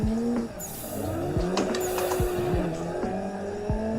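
Drift car in the racing game Assetto Corsa, with an engine droning and tires squealing in drawn-out screeches through an e-brake entry, plus brief clicks, all loud and continuous, with no talk.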